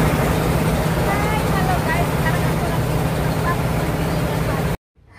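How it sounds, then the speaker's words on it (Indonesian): A rice milling machine runs loudly at close range, a dense, steady mechanical roar with a low droning hum that holds constant for several seconds, then cuts off abruptly, leaving near silence. "Sekarang aku akan perdengarkan ke kamu suara mesin penggiling padi seperti apa"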